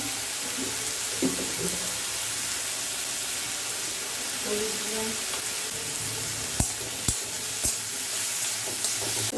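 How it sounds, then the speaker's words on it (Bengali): Vegetables fry with salt and turmeric in a pan, a steady close sizzle with a spoon stirring and scraping, plus a few sharp clinks near the end. "এবারে এটা লবণ হলুদ দিয়ে একটু ভাজা ভাজা করলাম একটু নরম হয়েছে"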